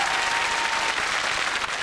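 Studio audience applauding a television show's director, a dense continuous wash of clapping, loud and close throughout with no voices over it.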